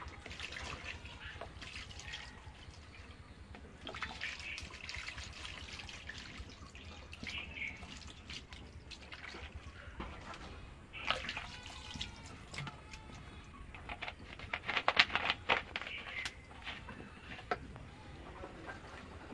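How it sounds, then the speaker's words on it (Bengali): Water trickles and drips from freshly made chhena, homemade paneer curds rinsed in cold water and left to drain, a faint, irregular patter and splash close by with a few louder drips toward the end. "দেখেন ছানা থেকে কত জল বেরোচ্ছে"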